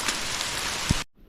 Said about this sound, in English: I mean, look at that, the downpour.